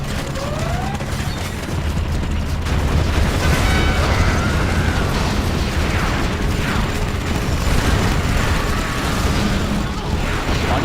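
Rocket bomb explosions in the strategy game Command & Conquer Generals, a steady rumbling din of blasts and battlefield mechanisms that stays loud and dense throughout, with a few whistling streaks overhead.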